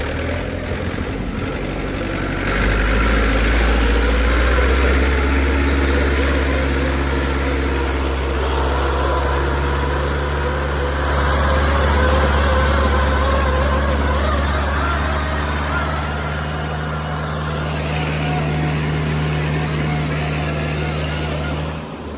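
A heavy tractor engine drones loudly and continuously while pulling a three-bottom plough, its low rumble swelling slightly under load as it pulls steadily.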